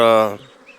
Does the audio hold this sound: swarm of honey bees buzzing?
yes